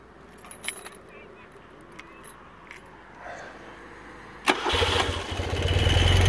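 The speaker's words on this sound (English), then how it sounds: "Start it up. That's ignition on." A vintage BMW R60/6 motorcycle engine with the ignition switched on: keys and switch clicks at first, a brief cranking, then the boxer twin catches about two-thirds through and settles into a loud, steady close idle.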